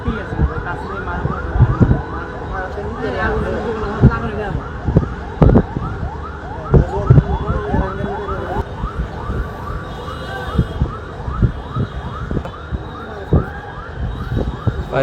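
Fire service vehicle sirens wail continuously at a factory fire, with repeated rising and falling tones from several units and scattered loud knocks and bangs mixed in.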